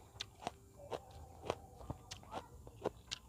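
Someone eats Isan-style bamboo shoot soup close up, with soft crunches and bites at a loose, uneven rhythm over a quiet background.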